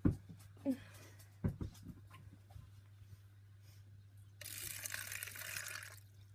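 Water pours from a jug into a dish set on the floor of a giant African land snail enclosure, a steady splashing trickle in the last couple of seconds after a few knocks and handling sounds.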